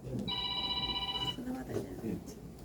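A telephone rings once with a bright electronic trill lasting about a second, while someone talks at moderate level around it.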